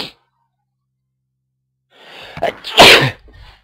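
A single human sneeze follows a short silence, starting with a quick breathy intake and ending in a sharp, loud burst, close and alone.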